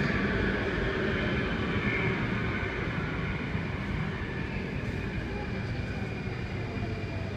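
An Alstom Metropolis C830 metro train on Singapore's Circle Line pulls into Bishan station heading for HarbourFront, giving a loud, continuous rumble and whine that fills the platform without letting up.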